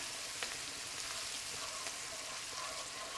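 Onion, mint, turmeric and cinnamon fry steadily in a pan, producing a soft, continuous sizzle with faint crackles and occasional stirring ticks, heard alone without talk.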